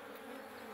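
Honey bees buzz steadily over a hive frame fitted with a wax foundation sheet where they are building comb, a close, continuous hum with no pauses.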